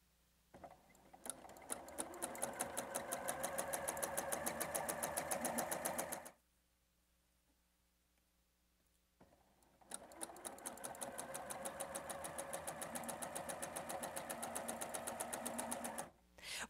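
A sewing machine stitching quilt block pieces runs in two bursts of rapid, even needle clatter, each lasting several seconds, separated by a quiet pause and heard close up.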